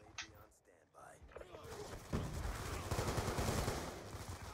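Gunfire in Black Ops 2 multiplayer, a rapid burst of automatic shots building from mechanical clicks into a loud, sustained rattle lasting a few seconds.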